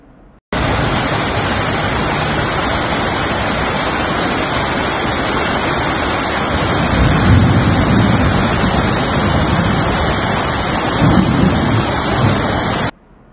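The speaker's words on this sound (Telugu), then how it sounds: "హైదరాబాద్ కొండాపూర్లో భారీ వర్షానికి జలమయమైన రోడ్లు." Heavy rain falls on waterlogged roads in Kondapur, Hyderabad, a dense, even hiss that starts abruptly and holds steady and loud throughout before cutting off, with no voices.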